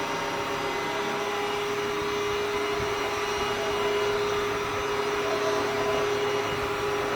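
An all-in-one wet/dry vacuum cleaner and mop runs steadily at close range, a constant motor whine with a broad airflow hiss and no pauses throughout.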